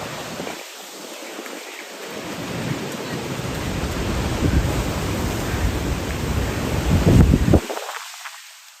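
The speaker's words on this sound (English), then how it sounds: "heavy rain and flooding were still affecting the territory." Super Typhoon Saola brings heavy rain that pours down in a loud, dense hiss, swelling toward a roaring peak before cutting off abruptly near the end.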